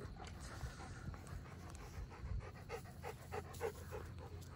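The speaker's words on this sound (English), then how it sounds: "Good dog." A dog pants in quick, steady rhythmic breaths close by, soft and continuous throughout with no talking.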